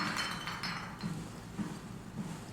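Glass items in the sci-fi horror game SOMA get knocked around, giving a few faint, spaced clinks and dull taps over a steady low ambient drone.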